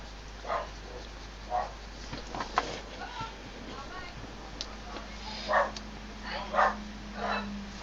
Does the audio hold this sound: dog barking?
yes